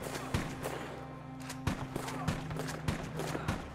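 Sharp gunshots ring out in a Red Dead Online shootout, several irregular cracks spaced through a steady background hum, fairly close and punchy, with a shotgun among the weapons.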